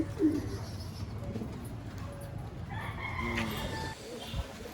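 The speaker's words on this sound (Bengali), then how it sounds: "একটা সবুজ মেশিয়া পায়রা" Pigeons in a small loft with a green Madrasi pigeon close by, giving faint coos and bird calls over low background noise, with a brief burst of chatter near the end.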